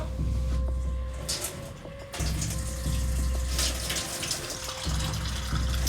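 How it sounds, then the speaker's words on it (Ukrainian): A cold-water tap runs loudly and steadily nearby, pouring foul-smelling water, with the gushing flow briefly dropping and then surging back. "З крана тече, не поймемо що."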